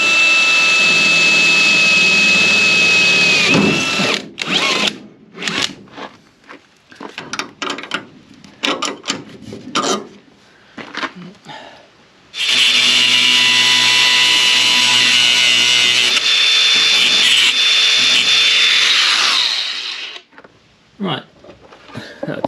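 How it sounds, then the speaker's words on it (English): A power drill bores a hole for a coach bolt during arm rest and side door repair on a VW LT van, running in two long, loud sustained bursts with shorter stop-start whirs between them. "Grab a drill and then we'll do that."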